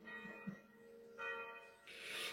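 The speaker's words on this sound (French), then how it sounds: "Il y a la sirène de la ville, les cloches" Church bells ring with a sustained, layered metallic tone, swelling louder near the end, with a faint background din.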